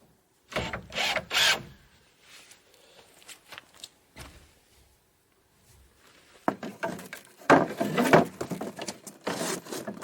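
A shed wall frame being screwed together, with bursts of power-driver whirring and ratcheting, scattered knocks and handling noises between quiet gaps, close by with no talking.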